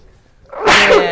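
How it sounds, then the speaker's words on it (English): A single close, loud sneeze that builds from a quiet breath into a sharp burst and carries on to the end. "Excuse me, I'm going to sneeze."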